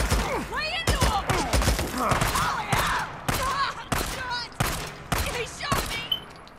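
Gunfire in the video game Days Gone comes as a series of sharp, loud shots spaced through the stretch, with game voices heard between and under them.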